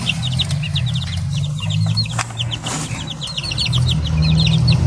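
Black Bulik chicks cheep in a steady stream of high, rapid chirps with occasional clucks, close by in a yard over a constant low hum, no talking.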